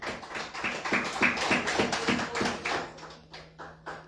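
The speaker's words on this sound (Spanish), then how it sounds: "Le fuerte aplauso al Señor." A church congregation claps in a quick, steady rhythm, each sharp clap evenly spaced and moderately loud, with a faint sustained tone entering near the end.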